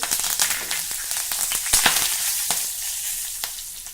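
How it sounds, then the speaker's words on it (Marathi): Curry leaves and fenugreek seeds sizzle in hot oil, a steady close bright frying hiss with small crackles and pops throughout, no voices. "मेथीदाणे थोडे तांबूस झाले की आपण यामध्ये चार ते पाच कढीलिंबाची पानं किंवा कढीपत्त्याची पानं घालूया"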